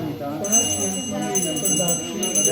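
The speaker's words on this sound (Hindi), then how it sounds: "ये घंटी बजना जरूरी होता है पूजा में" A small hand bell rings steadily in the background during a Hindu Satyanarayan puja, its thin high tone sustained beneath murmuring voices and chanting.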